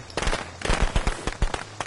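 Firecrackers in the video game Friday the 13th, a rapid crackling string of sharp pops, loud and close, bursting in quick irregular clusters.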